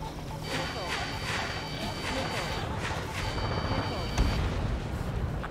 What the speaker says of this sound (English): I should probably use bombs